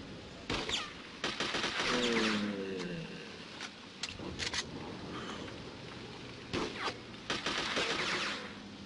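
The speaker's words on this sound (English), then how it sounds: "Yeah, he's armed with a Tommy gun." Tommy gun fire in the browser war game Mud and Blood 2 comes as scattered sharp bursts of rapid shots amid a noisy battle din, some shots close and loud, others thinner, with no voices.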